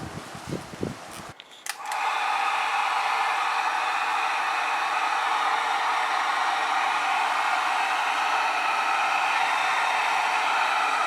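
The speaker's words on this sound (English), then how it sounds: "and then we can heat. With a heat gun?" A heat gun blows hot air in a steady, loud whooshing hiss. It starts after a few brief clicks and handling noises during work on an NB2 MX-5 Miata fuel pump and sender unit.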